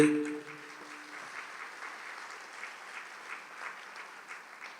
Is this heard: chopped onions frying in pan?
no